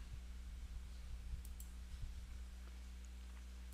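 A computer mouse button clicks a couple of times, faint and close, over a steady low hum during network management software work.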